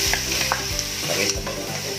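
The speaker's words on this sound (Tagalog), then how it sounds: "ilagay ko na itong karne" Meat and chicken gizzards for Bisaya-style dinuguan hiss steadily in a hot pan, with a few scraping stir strokes over the loud, constant sizzle.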